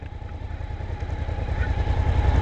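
A kick-started motorcycle idles in neutral with a steady low, even, throbbing engine note that is close and continuous and rises slightly toward the end, heard without speech.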